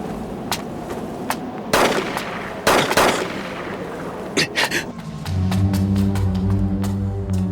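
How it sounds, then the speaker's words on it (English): Gunfire from the anime series Monster: a few sharp, loud shots ring out over the soundtrack at about the midpoint, followed by a sustained musical drone. "There ain't no way Nina shot Johan"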